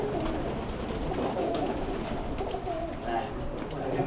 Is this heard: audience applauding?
no